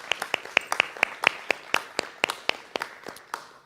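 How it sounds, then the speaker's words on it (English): An audience at a talk on communication claps in scattered, individual claps, roughly fifteen sharp hand claps over a few seconds, fairly close and uneven in rhythm, with no one speaking over them. "Can we give her a round of applause, please?"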